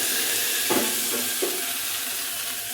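Spices temper in hot oil for kadhi, a steady close sizzle with a few brief louder crackles or pours in the middle, no voices.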